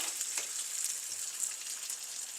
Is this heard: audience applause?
no